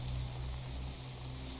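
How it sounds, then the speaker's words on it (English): Steady rain falls in Minecraft, a dense continuous hiss of raindrops with a low rumbling undertone, constant and fairly loud with no voices. "Now it's raining now, Puff."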